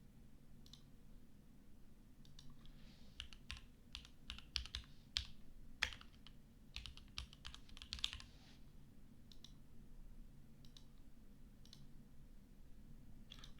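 Typing on a computer keyboard during an advanced search, quiet keystrokes in irregular bursts with short pauses and a few sharper clicks, close and alone over a low hum.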